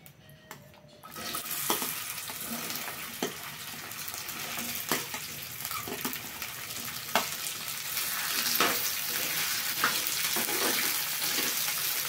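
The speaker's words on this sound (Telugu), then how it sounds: "ఇప్పుడు మనం బెండకాయ ముక్కలు వేసుకుందామండి" Okra pieces fry in a pan with a steady, dense sizzle and occasional sharp clicks of stirring, close and continuous after a brief quiet start.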